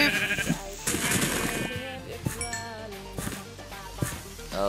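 Minecraft sheep bleat repeatedly in quick succession, clear wavering animal calls near and prominent over faint game ambience.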